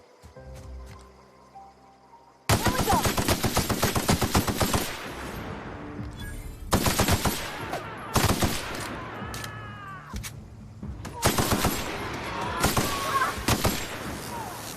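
Gunfire in the video game The Outer Worlds: loud, rapid automatic bursts begin abruptly after a quiet moment, then repeat in several close, sustained volleys with brief gaps between them.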